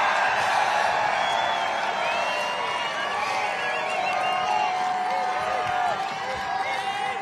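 A large political rally crowd in Michigan, 2024, cheers and whoops continuously, a dense, loud wash of many voices that holds steady throughout with scattered shouts rising above it.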